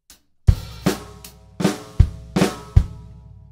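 Drum kit playing a lesson piece, a bar of Film Noir with a flam kick fill: punchy kick and snare hits in a steady rhythmic pattern with cymbal wash, close and clear, no talking.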